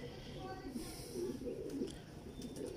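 Lal Pari pigeons, a breeding pair, cooing softly in a repeated low rhythm, with faint chirps and a quiet voice in the background.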